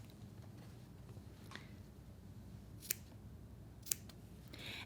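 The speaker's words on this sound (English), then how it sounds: "And using really sharp scissors is important on this" Sharp scissors cut through quilt fabric in a quiet room, with a few crisp, isolated snips spaced about a second apart over a low steady background hum.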